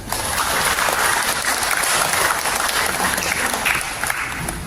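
A congregation at a memorial worship service bursts into loud, dense applause that carries on for almost five seconds, a thick, close wash of many hands clapping with no speech over it.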